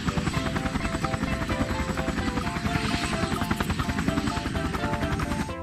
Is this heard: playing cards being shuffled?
no